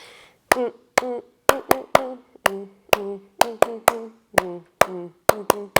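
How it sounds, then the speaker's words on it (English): Sharp, close handclaps in a children's song spelling Jesus come in quick groups with pauses between them. Between the claps, voices sing the letters. "let's do all 5 claps"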